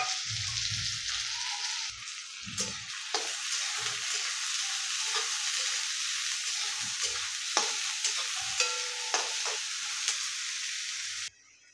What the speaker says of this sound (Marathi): आणि कांदा मस्त आपल्याला गोल्डन रंगावर फ्राय करून घ्यायचा.